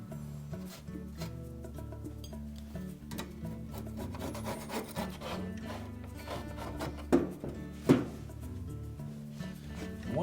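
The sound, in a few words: scraping old glue off dryer surface with scraper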